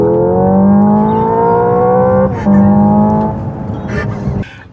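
A Hyundai IONIQ 5 N's synthetic engine sound generator drones loudly with a steady engine-like tone during a road drive, broken by a brief simulated gear-shift bump before the tone resumes and then fades.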